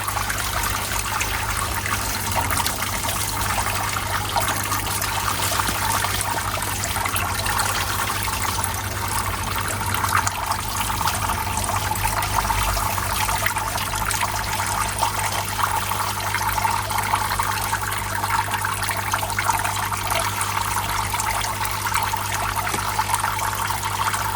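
Steady trickling water splashes continuously, a soft broadband patter of a small waterfall feeding a koi pond, with a low hum underneath, no voices.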